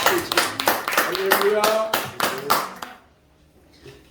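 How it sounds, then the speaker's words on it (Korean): Church congregation clapping hands together in thanks during a worship service, a dense rhythmic burst of applause for about three seconds under a spoken call, then trailing off into near silence. "우리 하나님께 감사의 박수를 보내기 위해 할렐루야."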